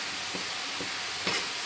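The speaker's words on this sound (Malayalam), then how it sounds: "നല്ലോണം ഇളക്കി എടുക്കുക." Kerala-style beans stir-fry is stirred in a pan, with three soft scraping strokes over a low continuous sizzle, close and without talk.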